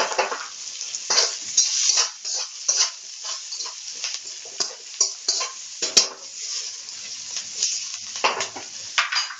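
Vegetables for Hakka noodles sizzle and hiss loudly in a pan over a high flame, with repeated scraping strokes of stirring and tossing, close and continuous throughout.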